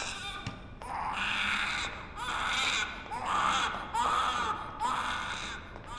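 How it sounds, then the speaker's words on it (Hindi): A newborn baby cries in a crowded hospital maternity ward, with repeated loud wailing bursts in a steady rhythm, close by and filling the room. "अरे उधर बच्चा रो रहा है"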